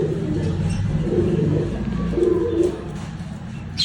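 Pet pigeons coo in low, repeated murmurs close by, with a few faint chirps from other birds mixed in and no speech.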